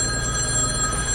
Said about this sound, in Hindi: मेरे फ़ोन की घंटी बजती है